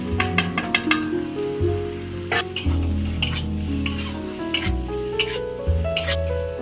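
Turmeric, chilli powder, chaat masala, cinnamon, cloves and cardamom sizzle in hot oil for egg biryani, with a utensil knocking and scraping the pan in quick, uneven strokes over a continuous close fry, and no speech.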